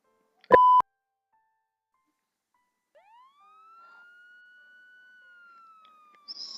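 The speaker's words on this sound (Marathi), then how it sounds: "सायरनचा आवाज ऐकू यायला" A wailing siren in a tense Marathi short film scene rises in and holds a steady, fairly faint tone in the distance, following a sharp loud beep near the start.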